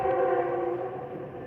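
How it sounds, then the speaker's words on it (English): Steady tonal drone of a train passing near the tracks, sustained and fairly loud with a wailing, horn-like quality, slowly easing off over a short stretch with no voices. "I'm like walking near train tracks."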